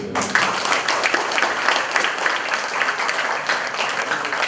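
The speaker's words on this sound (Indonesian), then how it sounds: "Tepuk tangan dulu." A university seminar audience bursts into applause, a thick, even wash of many hands clapping that begins sharply and continues steadily at moderate loudness.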